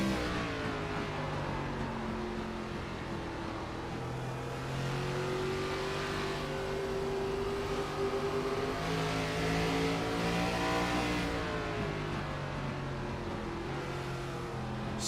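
Race cars of the Midwest Elite Racing series circle the IRP track, their engines droning and revving continuously with rising and falling pitch as cars accelerate and lift off the throttle, loud and unbroken throughout.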